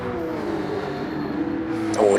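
Race cars in a racing video game sweeping through S-bends, engines droning and rising in pitch as they pass, with a commentator talking over them.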